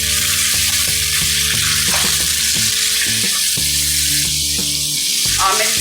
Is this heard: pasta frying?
yes